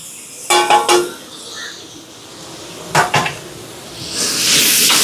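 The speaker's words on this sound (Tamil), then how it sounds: "இப்போ கலந்து விடுவோம். இதில் வந்து தனி மிளகாத்தூள், மல்லித்தூள், பிரியாணி மசாலா, கரம் மசாலா." A spoon clatters against a metal pot while mixing chili powder, coriander powder and biryani masala, with a few loud clanking strokes in two bursts, followed by a soft rising sizzle.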